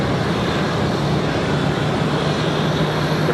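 A Republic Airways airliner departing Raleigh-Durham International, its engines a steady, broad roar that holds evenly throughout with no voices over it.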